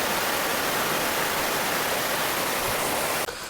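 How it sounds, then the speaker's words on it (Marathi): Village stream waterfall with a steady, dense rush of falling water, loud and unbroken, filling the scene until it abruptly cuts near the end. "हे बघा मस्त इकडे धबधबा आहे"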